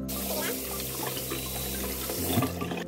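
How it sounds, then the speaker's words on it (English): Liquid drains from a bag of skinny pasta into a sink, a steady close splashing pour with a brief heavier gush near the end. "we are going to take the skinny pasta out of the bag and drain it"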